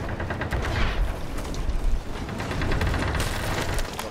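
Cannons fire from a sloop during a Sea of Thieves PVP naval battle, a dense run of booming shots and crackling impacts, loud and continuous with overlapping blasts and no voices.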